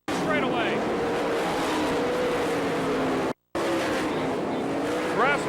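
Sprint race cars roar past on a dirt oval during an All Star Circuit of Champions race at Florence, Kentucky, with loud engine sweeps and Doppler passes over a continuous track din, under an announcer's commentary.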